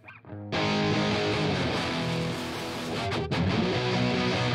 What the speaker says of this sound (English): Starting to get that tube distortion.